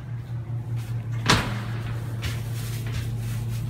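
The door of a 1970s Dover elevator in a building slides and thuds shut with one clear knock over a steady low machinery hum.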